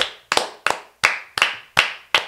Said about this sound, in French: Là, on applaudit.